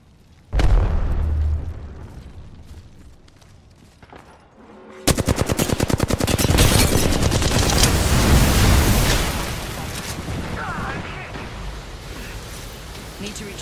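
An Arc Star grenade bursts in a shooter game with a sharp crack, followed by a long rapid volley of automatic gunfire and blasts, loud and close, while a player talks over it.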